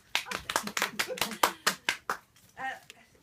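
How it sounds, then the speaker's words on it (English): Audience at a poetry reading by the LGBT Poet Laureate at a National Trust venue claps in a sparse, uneven burst of about a dozen distinct nearby claps that slows and thins out toward the end, with no talk. "whoever's leading the clapping out there, I love you"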